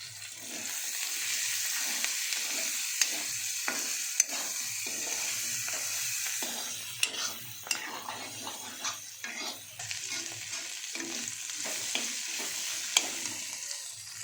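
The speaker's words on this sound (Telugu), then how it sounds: "చింతకాయలు వేసి ఇవి బాగా నూనెలో వేగాలి." Turmeric, cumin and tamarind pods fry in hot oil for a ridge gourd chutney, giving a steady close sizzle and crackle throughout, broken by repeated scraping stirs of a spoon against the pan. No one speaks.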